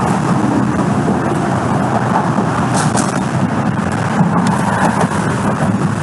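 A heavy rain storm pours down in Queensland, a dense, loud, unbroken roar of rain with wind and rumble and no talk.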